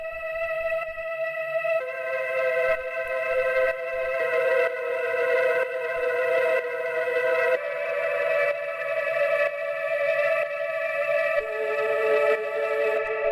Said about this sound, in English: Then we have this granular vocal pad, which sounds like this.